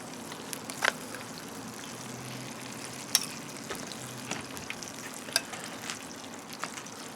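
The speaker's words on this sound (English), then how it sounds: "You're constantly stirring just to make sure that the watery stuff is mixed in with everything else." Salmon cake mixture is stirred in a hot pan, a soft continuous sizzle with occasional light scrapes and clicks of the utensil, fairly quiet and without talk.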